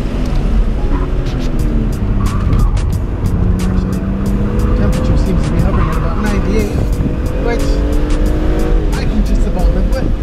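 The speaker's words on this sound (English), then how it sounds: "If I drag the brakes just enough, it starts to rotate mid-corner." Car on a race track under braking, rotating mid-corner with about 90-degree temperatures; steady loud engine drone with tire squeal and skidding throughout, speech over it.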